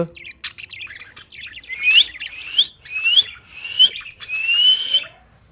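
A pet parrot in a colony of nesting birds calls loudly with a series of sharp, rising chirps and squawks, repeated in bursts every second or so, close by and alone without talk.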